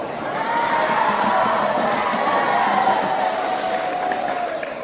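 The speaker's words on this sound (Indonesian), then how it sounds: "Kok tepuk tangan?" Audience applause at an Islamic sermon, a steady crowd clapping wash with a few cheers, continuous and fairly loud throughout, with no speech over it.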